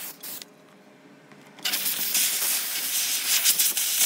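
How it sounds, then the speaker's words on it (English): A handheld steamer blasts a broad hiss into windowsill gunk; a short puff, a quiet pause, then a loud steady jet of steam that runs on to the end. "So you're just going to steam all the gunk in the windowsill to loosen it up."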